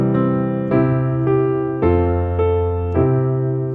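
A piano plays the opening phrase of Twinkle Twinkle Little Star, six clear, evenly spaced notes ringing out alone with sustained harmonics and no talking.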